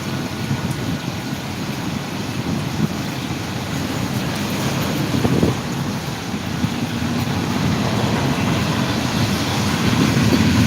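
Steady broadband rumble of a passing train in the rain, continuous and fairly loud throughout, with no voices.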